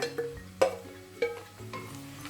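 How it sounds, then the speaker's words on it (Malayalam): Half a kilo of chopped okra tumbles into a hot pan for a Kerala okra-coconut thoran and gets stirred, with a soft sizzle and a few distinct scraping clatters near and clear. "ഇനി ഇതിലേക്ക് വെണ്ടക്കായ അരിഞ്ഞു വെച്ചത് ചേർത്ത് കൊടുക്കാം"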